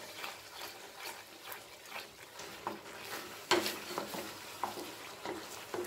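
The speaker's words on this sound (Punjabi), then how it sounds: "ਹਿਲਾਉਂਦੇ ਰਹਿਣਾ ਇਹਨੂੰ ਕਿਉਂਕਿ ਨਹੀਂ ਤਾਂ ਥੱਲੇ ਲੱਗਣਾ ਸ਼ੁਰੂ ਹੋ ਜਾਂਦਾ ਹੈ" Ginger barfi mixture being stirred in a pan, with soft repeated scraping strokes and a faint sizzle underneath at a steady pace. One sharper scrape stands out midway.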